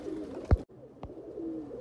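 Breeder pigeons (kabootar) in Faisalabad give soft, low coos, faint and close, broken by a couple of sharp clicks.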